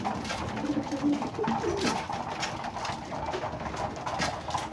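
Pigeons coo softly in low, rolling calls against a constant background hiss, with no talking.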